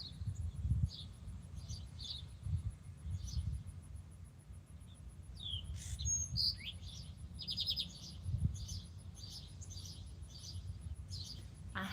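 Bird calling outdoors, species unidentified: repeated high chirps and varied whistled notes at moderate distance over steady low rumbling background noise, with a brief cluster of rapid notes midway.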